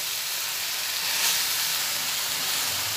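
Vegetables for pachon sizzling steadily in a hot pan while being stirred, a dense even hiss with soft scraping underneath and no talking.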